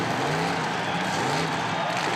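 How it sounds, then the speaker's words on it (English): A 1966 Ford Mustang doing a burnout in the Summernats arena, a dense continuous roar of engine and tyre screech that holds loud and steady throughout with no gaps, alone without speech. "It is a tough burnout."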